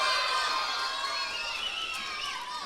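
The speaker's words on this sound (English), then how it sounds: "This crowd is fired up for Mr. Wobble" A crowd at a Texoma Pro wrestling event cheers and shouts for Mr. Wobble, with high, excited voices, many of them children, roaring steadily at a distance.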